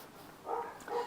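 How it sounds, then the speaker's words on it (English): A dog barks faintly somewhere off in a quiet room, two soft muffled barks close together over low background hiss. "So you won't have to sit and listen to my dog barking."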